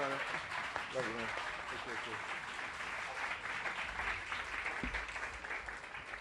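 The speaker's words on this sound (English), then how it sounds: "If you know who I'm talking about, just begin clapping now" An audience claps steadily to welcome the mayor of Los Angeles to the microphone at an apartment grand opening press conference, a dense, sustained round of applause with a few voices mixed in at the start.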